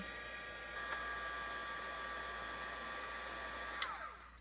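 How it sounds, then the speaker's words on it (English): A steady, close whooshing blast of hot air with a constant high whine, running without pause, with a couple of faint clicks. "And then I dry it right away with my heat gun. Sorry for the noise here."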